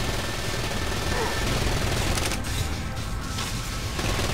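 Sniper rifle fire in Gat Out of Hell, a dense run of gunfire bursts filling the whole stretch, loud and continuous with no clear gaps between shots.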